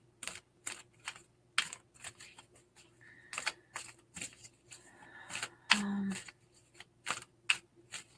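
Playing cards handled and swapped between decks during a live intuitive card reading, giving a run of quick soft riffles, taps and shuffling clicks at close range in a quiet room, with a brief voice murmur partway through.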